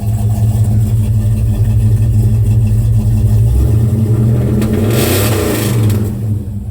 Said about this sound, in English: I'm gonna give her one good rev for you guys